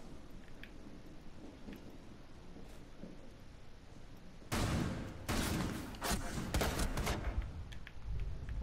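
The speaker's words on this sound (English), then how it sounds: "He shot me from another wall." Gunfire in Rainbow Six Siege, shots fired through a concrete wall: a sudden loud burst of broadband impacts starting midway, continuing in dense clustered bursts over a quieter ambient bed with faint distant pops earlier.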